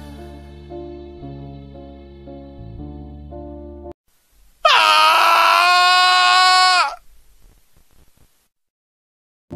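A horrifying scream sound effect bursts in loud and sustained for about two seconds after a stretch of low tonal music, then cuts off into near silence.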